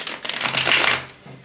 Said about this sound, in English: I need to shuffle the cards.